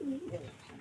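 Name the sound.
pigeon cooing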